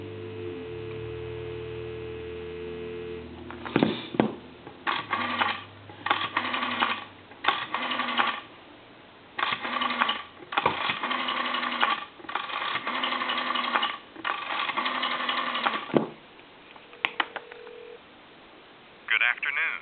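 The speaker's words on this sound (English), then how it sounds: "We'll dial one more time." Mechanical clicking in a series of bursts with pauses between them as a rotary telephone dial turns and spins back, over a telephone line hum.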